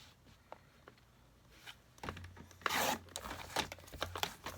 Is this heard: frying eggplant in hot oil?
no